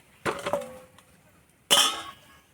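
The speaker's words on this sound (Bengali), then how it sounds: "খাওয়ার শুনেই বুঝতে পারছো কত সুন্দর ভাজা হয়েছে" Two close, sharp crunches come from bites into a crisp fried sweet made only of wheat flour and sugar, with a quiet pause between them.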